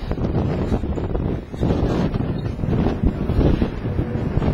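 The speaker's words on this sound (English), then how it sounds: "it's just really, really windy right now." Strong wind buffets the microphone, a loud, rumbling roar that gusts unevenly throughout with no voices.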